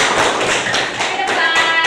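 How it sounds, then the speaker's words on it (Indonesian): Classroom group applause for a student group in a teaching session. Dense, lively patter of many hands clapping at close range, swelling in several waves over a couple of seconds, with no talk. "Tepuk tangan dulu kelompok Usman."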